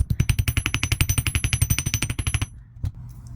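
Copper wire is hammered flat on a hard surface in a fast, even series of about thirty close, sharp metallic taps, then the tapping stops and a quiet knock follows.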